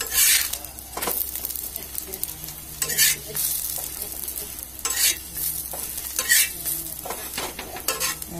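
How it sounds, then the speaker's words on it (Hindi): A paratha fries in refined oil on a hot tawa, giving a steady close sizzle that runs the whole time. Repeated utensil scrapes and clinks sound over it at an irregular pace. "इस पे मैं रिफाइंड तेल डाल रही हूँ"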